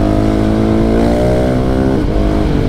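A 2020 KTM 690 SMC R supermoto engine roars loudly and close, revving up steadily in pitch with a brief dip before climbing again.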